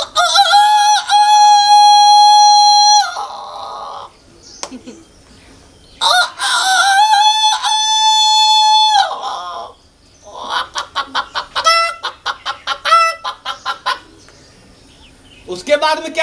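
A voice imitates a rooster, with long loud crowing calls followed by a fast run of sharp clucks, close and clear.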